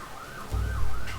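A wailing emergency siren sweeps up and down outside, joined by a brief low rumble, heard for just over a second.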